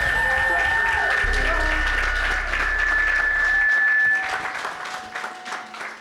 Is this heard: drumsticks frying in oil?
no